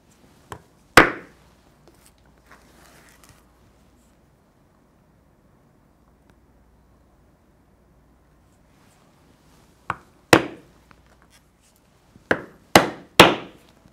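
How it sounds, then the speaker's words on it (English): A corner punch rounds the corners of leather with sharp, isolated hammer strikes, one early and a quick cluster of four or five near the end, loud and close against quiet. "Next, I will use a corner punch to round the 4 corners."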